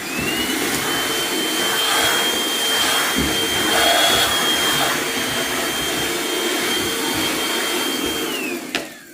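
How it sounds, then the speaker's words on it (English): A vacuum cleaner runs steadily while cleaning up after rose wreath crafting, a loud continuous whine with a high tone that stays level for several seconds and then cuts off. "All right, let me vacuum this up."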